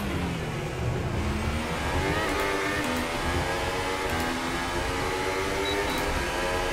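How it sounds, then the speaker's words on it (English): A Honda Formula 1 engine in the racing game F1 2018 roars steadily throughout, its harmonic drone climbing in pitch as the car accelerates, loud and continuous with no voices. "Listen to that Honda engine roar."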